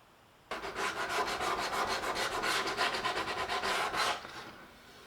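A sanding block rubs back and forth along the edges of Boulle marquetry, a steady rhythmic rasping of abrasive on wood, close and fairly loud for about four seconds before stopping.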